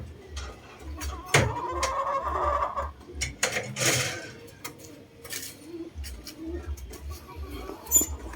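Backyard chickens and young gamecock stags make scattered clucks and short calls at moderate distance, with a low steady hum underneath and brief louder squawks now and then.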